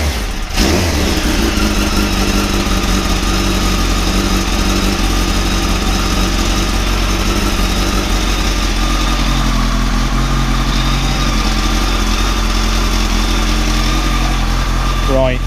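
A motorcycle engine idles steadily after a clutch repair, a constant loud drone with a low rumble and a bright whine that hold unchanged from start to end.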